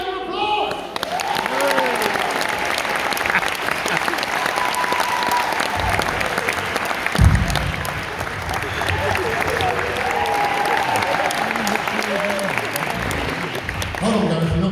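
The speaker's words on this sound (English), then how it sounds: "take an applause" A large studio audience applauds steadily and loudly without a break, with a dense wash of clapping and some crowd noise throughout.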